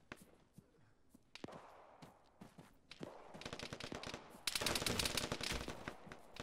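Gunfire in the video game Arma, with bursts of automatic shots and single cracks. It starts sparse and grows denser and louder toward the end.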